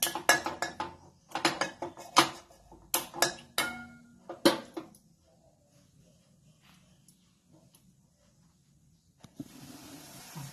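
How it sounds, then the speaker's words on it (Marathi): A metal kadhai is set onto a gas stove with a series of sharp clanks and scrapes, bunched in bursts over the first few seconds, then a quiet stretch followed by a soft hiss of the burner. "आता या ठिकाणी आपण कढई ठेवलेली आहे"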